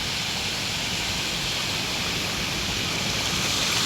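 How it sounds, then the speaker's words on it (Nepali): Lauke waterfall in Nepal pours in a constant broadband rush of falling water, loud and unbroken throughout, with no talking. "लौका जस्तो झर्ना रहेछ"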